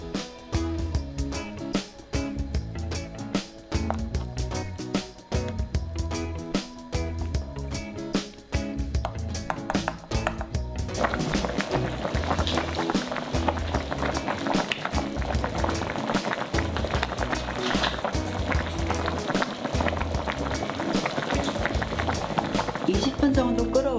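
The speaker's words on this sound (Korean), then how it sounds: "이제 물이 끓으면 같이 넣고 끓여줄게요" Pork backbone and cabbage soup seasoned with doenjang boiling in a pot, a steady bubbling and rolling simmer that grows fuller partway through, with a voice talking over it at first.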